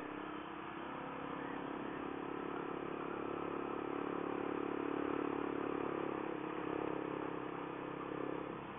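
A Honda CRF250L motorcycle riding off the grid over a washboard dirt road, its engine droning steadily while the bike clatters and rattles over the ridges, close and continuous.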